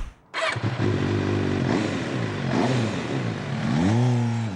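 MV Agusta F4 sport motorcycle engine fires up and revs loudly nearby, a steady throaty roar with strong induction noise rising and falling through several throttle blips, no talking.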